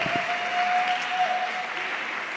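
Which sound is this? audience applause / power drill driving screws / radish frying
audience applause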